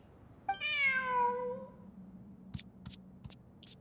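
A cat in Genshin Impact gives a single clear, drawn-out meow near the listener, followed by a few soft clicks and taps in an otherwise quiet scene.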